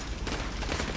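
AK rifle fire in Call of Duty: Modern Warfare 2 Remastered, a brief, dense burst of rapid automatic shots that is loud and close.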